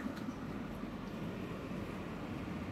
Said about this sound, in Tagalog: Ayan, umandar na yung tren.